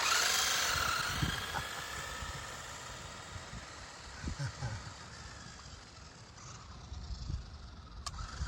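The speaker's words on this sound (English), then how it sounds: "That's a nice wheel spin." A Maisto Formula F1 ready-to-run RC car spins its wheels in a burst of loud, hissing whir that fades over several seconds, leaving a lower rumble with a few faint scuffs.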